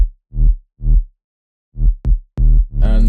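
Repeated low sub-bass synth notes with a gritty, saturated edge from a sausage flattener and shaper box, playing a short rhythmic pattern of swelling hits, ending with a brighter, buzzier burst.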